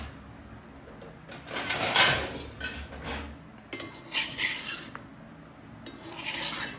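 A roti being roasted and turned on a tava over a low gas flame, with close dry rasping and rubbing scrapes in bursts and short pauses between.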